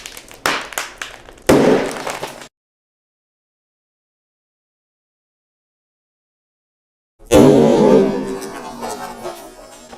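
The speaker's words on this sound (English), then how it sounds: "Yes, I blew the bottom of the bag out though." A chip bag of Hardbite sweet ghost pepper kettle chips pops open loudly, its bottom bursting, with a sharp crinkling blast followed by rustling after a silent gap.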